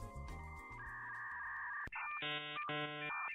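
A phone rings with a bright electronic ringtone melody, a sustained tone first and then repeated warbling bursts, fairly clear and with no speech over it.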